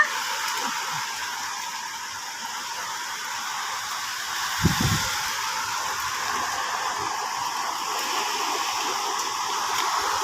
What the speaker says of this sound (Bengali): বৃষ্টির পানি তার মুখে পড়তেছে।